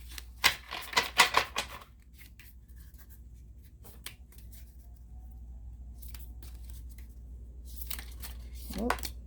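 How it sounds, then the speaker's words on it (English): Quick papery riffles of oracle cards being shuffled come in two bursts, separated by a quiet stretch, with a voice briefly audible. "Here, let's shuffle one more time and see."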